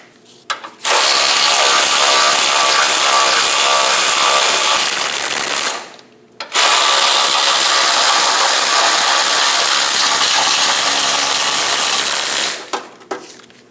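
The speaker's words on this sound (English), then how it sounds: "Using a 21mm socket, remove the 2 bolts. Break them free before you remove them." Two long, loud, steady bursts of a power ratchet or impact tool spinning a 21mm socket to break free and remove bolts from the front end of a 2003-2025 Chevrolet Express 2500 van, separated by a brief pause.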